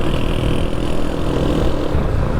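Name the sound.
motorcycle engine revving, rev matching on stock pipe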